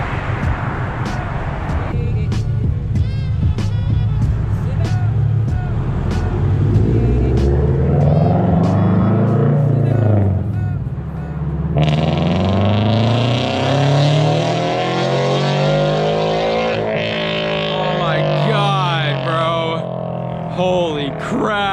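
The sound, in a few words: sports car exhaust with catless headers driving past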